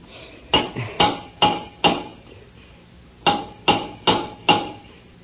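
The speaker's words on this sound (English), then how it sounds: "Take the hammer and answer his signals" Sharp metallic hammer strikes on a submarine hull ring out in two groups of four evenly spaced taps, with a short pause between the groups.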